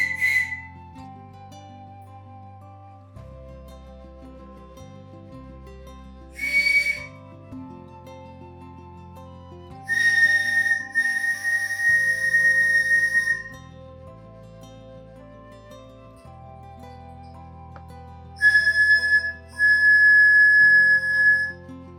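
Slovenian reed panpipe (trstenka) pipes sounded one at a time during tuning, bright breathy whistling tones in short bursts over a quiet steady musical background, with no talking.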